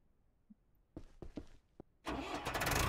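A pickup truck engine starts in Ranch Simulator, with a few sharp cranking clicks and sputters, then the motor catches and settles into a steady loud idle up close, with no voices.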